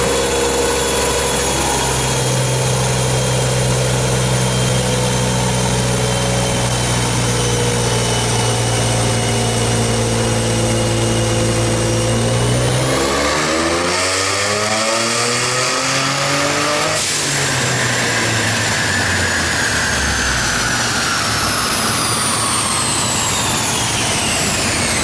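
A 3.5L EcoBoost engine swapped into a manual Mustang runs on a tune, idling loud and close before sweeping up in revs, dropping back, and then climbing again with a rising whine.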